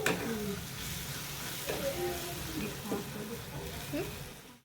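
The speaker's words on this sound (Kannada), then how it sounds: "ಇವಾಗ ಚೆನ್ನಾಗಿ ಫ್ರೈ ಆಗ್ತಾ ಇದೆ." Egg masala sizzles and fries in a pan at steady volume, with a soft stirring scrape now and then and faint talk underneath.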